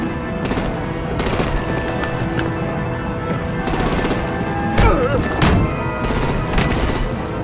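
Bursts of heavy gunfire during an action scene in the game Batman: The Enemy Within, several rattling volleys spread across the clip over a steady rumbling background.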